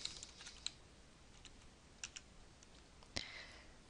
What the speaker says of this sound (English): And then we're going to type in our username.